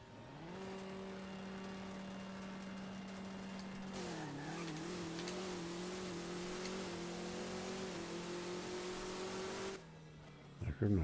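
A Camaro launches in a drag racing video game, its engine holding a steady idle-like drone before surging and climbing in pitch through a long run, loud and alone, ending in a short burst of clatter.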